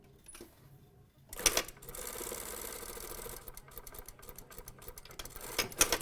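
A sewing machine stitches fabric for a pant drape in short runs, a fast mechanical whirring and clatter close by, with brief pauses and a few clicks between bursts.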